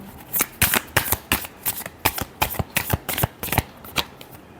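Tarot cards are shuffled by hand in quick bursts, a dozen or so crisp riffling slaps with short gaps between them, close and clear, and no voices are heard.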